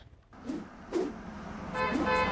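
Road traffic on I-37 in San Antonio on a holiday afternoon, a continuous hum of passing cars with a few short horn toots rising out of the flow at moderate distance.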